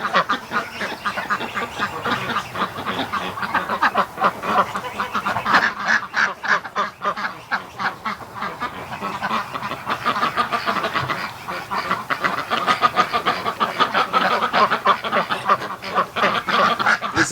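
Muscovy ducks call steadily on a cool morning outdoors, a dense, continuous chorus of raspy quacks and honks at close range with no pause across the whole stretch.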